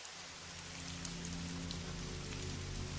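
Steady rain falls on a surface in a dense, even patter that stays close and constant throughout, with a low tonal hum beneath and no voices.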